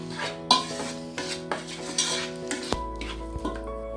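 Spices, red chilli, salt and oil being stirred together in a pan for omelette pasta, with a utensil scraping and clinking against the metal in repeated close strokes, without talk.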